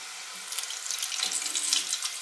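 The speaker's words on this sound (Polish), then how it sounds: "i jeszcze teraz chwilę smażę po tej stronie." Chruściki (faworki) pastries fry in hot fat in a pan, a steady close hiss and sizzle with crackling spits, no talk.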